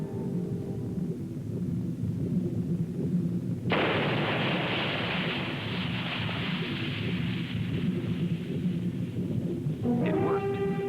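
An explosion at a pressure plant goes off suddenly as one loud blast, and a long rumbling roar follows that fills the scene for several seconds before it fades.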